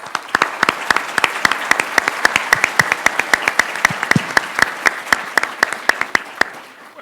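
Sparse applause welcoming a speaker at a formal lecture, with sharp, distinct individual claps ringing out in an uneven rhythm from a fairly small audience, clear and close against a quiet room.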